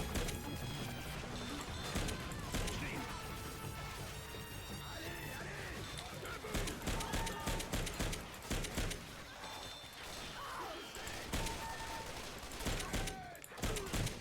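Gunfire and crashing impacts from the zombie shooter Left 4 Dead 2, with dense bursts of shots and smashes over a loud, busy game soundscape, carrying on steadily throughout.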